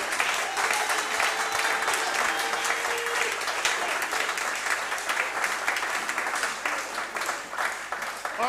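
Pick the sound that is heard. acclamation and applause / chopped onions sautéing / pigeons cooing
acclamation and applause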